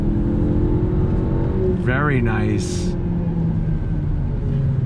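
A 2020 Honda Civic Sport Hatchback accelerates on throttle along a twisty road, a steady engine rumble and road noise heard from inside the car, with someone talking briefly over it.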